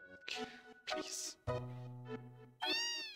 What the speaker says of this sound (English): Stop talking to the cat!